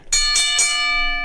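A bright notification bell chimes with two quick strikes and then rings out for about a second, clear and close, with no talk.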